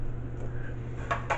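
An aluminium frying pan from a Czech V54 Cold War field kitchen being handled gives two quick, light metallic clinks near the end, over a steady low background hum.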